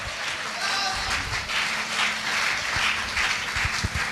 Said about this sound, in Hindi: एक जोरदार ताली हो जावे